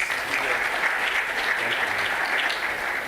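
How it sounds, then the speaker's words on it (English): A crowd claps steadily at an innovation week and industry summit, dense continuous applause throughout with no pauses. "Give a round of applause."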